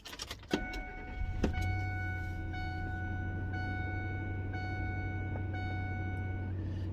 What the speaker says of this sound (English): let's go ahead and give it a cold start